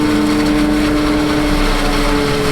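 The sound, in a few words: Kubota SVL 90 skid loader engine packing silage pit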